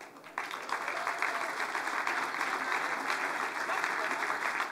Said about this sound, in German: Wir begrüßen mit einem ganz kräftigen Applaus